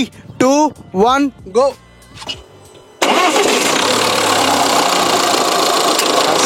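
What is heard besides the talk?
Kryotec 170 2-litre diesel engine starting and idling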